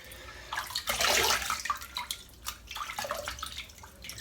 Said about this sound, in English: That's one splash of water on there.